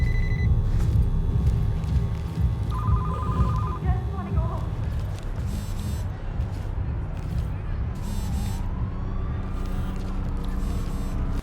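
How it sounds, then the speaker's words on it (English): In a tactical shooter video game, mobile phones ring on the bodies of victims, faint repeated electronic trills over low droning ambience and sporadic clatter, with a voice speaking over it. "One haunting detail they added was that all of the victims' phones are ringing."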